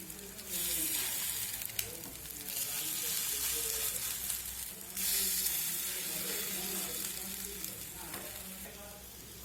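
Lentil and pennywort fritters fry in a pan of oil, a steady close hiss and sizzle running throughout with occasional bursts as they are turned.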